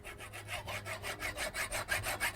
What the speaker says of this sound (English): To be safe, we're just going to use a hacksaw, and you just hacksaw it right off.